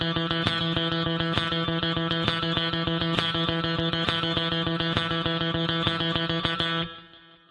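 Electric guitar with effects and distortion playing steady, rapid 16th-note triplet runs across several measures, loud and continuous before ringing out at the end, with no talking.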